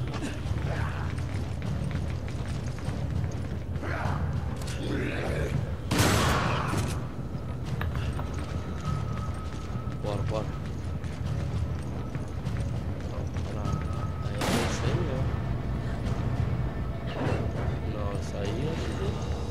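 Resident Evil 5 gunfire cracks out in sharp bursts over a busy, noisy soundscape of clattering effects and movement, with people talking throughout.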